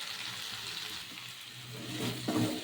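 Soya biryani masala with Kashmiri chilli powder sautéing slowly on a low flame, a soft continuous sizzle with a few light stirring scrapes near the end, no speech.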